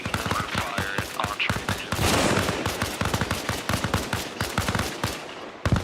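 Automatic gunfire in Arma Reforger on a modded military roleplay server rattles out in steady, fast bursts of close, sharp shots, with a dense barrage in the middle and a final loud report.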